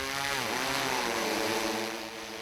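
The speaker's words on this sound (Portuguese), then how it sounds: "O drone que faz a pulverização é uma realidade" An agricultural spraying drone flies over a coffee field, its propellers giving a loud, steady, high buzzing drone that fills the whole clip and eases slightly at the end.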